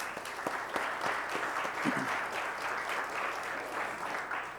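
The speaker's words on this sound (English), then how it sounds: "if we can just have a round of applause for volunteers, please" Audience applause for volunteers at a security community meetup, steady dense clapping filling the room throughout with no voices over it.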